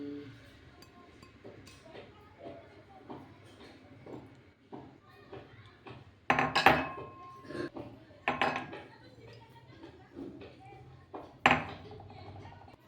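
Cardamom pounded with a little sugar in a kitchen, a series of sharp knocks and metallic clinks spaced irregularly, several louder strikes standing out, while someone talks.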